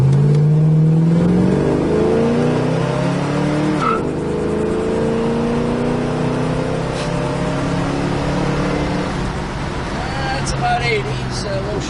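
A 1969 Plymouth GTX convertible accelerates hard, its engine roaring loud and close with rising revs through several gear shifts, and a voice talks over the drive.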